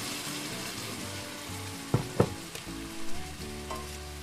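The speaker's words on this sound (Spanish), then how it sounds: "La vamos a dejar que se sofría muy bien." Onion sizzles in a frying pan as it is sautéed for a cheap home-cooked dish, a steady close crackle broken by a few sharp clanks of a utensil against the pan.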